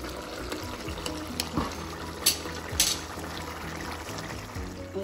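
Haitian-style conch stew (lambi) simmering in a pot, giving a steady close bubbling and gurgling with scattered louder pops, alone without talk.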